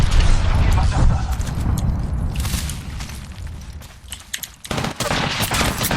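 Rapid bursts of automatic gunfire in a shooter video game, loud and close, with dense crackling volleys that pause briefly before resuming, mixed with a voice speaking over the action.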